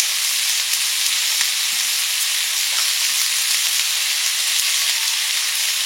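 Onion and ginger fry in a pan with a dense, even sizzle, close and steady throughout, no talk over it.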